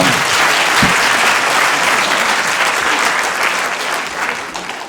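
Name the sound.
studio audience applause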